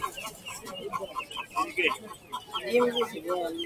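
Silkie chickens cluck and call among the crowd at the Tongi Bazar bird market, their short calls mixed in with nearby people talking and general market bustle.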